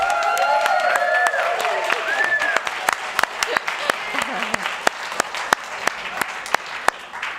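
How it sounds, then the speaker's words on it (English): A church congregation at a Sunday service gives a round of applause, a dense burst of clapping with cheering voices that thins to scattered, single claps toward the end. "We'd like just to have one more round of applause."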